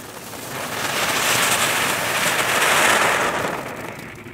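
A small firecracker set off in the run-up to New Year's Eve fizzes and crackles in a continuous hissing burst that swells and fades over about four seconds, loud and close.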